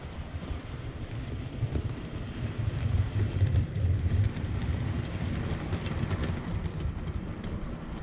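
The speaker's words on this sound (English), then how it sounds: "That train's just going round the inner loop." An OO gauge model train runs around the inner loop of a GWR layout, giving a steady close-up rumble and faint clicking that swells slightly midway and carries on without speech.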